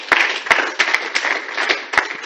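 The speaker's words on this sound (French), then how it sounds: "On applaudit pour elle, s'il vous plaît." Conference audience at an international women's rights event applauding, a dense, steady wash of many hands clapping with no one speaking over it.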